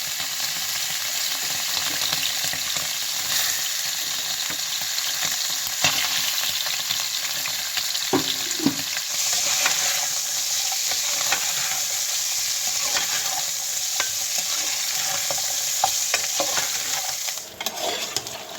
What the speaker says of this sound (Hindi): ये जो मीट है इसको हम डाल लेंगे इस घी में बिस्मिल्लाह करके एंड अच्छे से इसको फ्राई कर लेंगे।